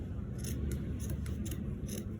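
Scissors snipping through a paper sewing pattern for a sleeve, several quick crisp cuts in an uneven rhythm, close and faint over a low background hum.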